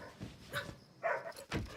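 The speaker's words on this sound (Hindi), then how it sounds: "क्यों भौंक रहा है?" A dog at home at night gives short, close barks mixed with high whimpers and yips in quick bursts.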